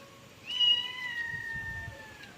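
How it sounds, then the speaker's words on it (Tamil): A cat gives a single drawn-out meow close by in a quiet home, rising sharply and then fading slowly. "அந்த பூனையை பாருங்க பூனை ஒன்றும் செய்யல"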